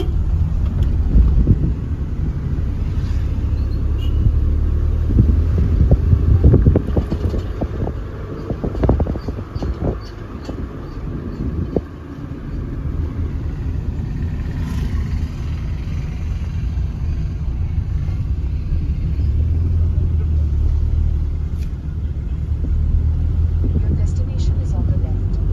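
A Chevrolet Spark drives on roads around Kadamakkudi with its windows open, giving a loud, continuous rumble of engine and road mixed with buffeting wind.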